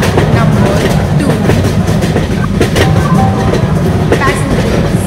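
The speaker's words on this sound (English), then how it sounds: "Vande Bharat Express is arriving at platform number 2." The Vande Bharat Express arrives in the Indian Train Simulator game: a loud, dense rumble of rolling wheels with rhythmic clickety-clack and metallic ticks, steady throughout and close.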